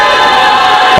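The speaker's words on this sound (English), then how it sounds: "We see some of the crowd starting to liven up a little bit over there." Crowd in a college volleyball gym, Tabor College against Ottawa University, gives a loud, steady roar of cheering and shouting for the whole moment.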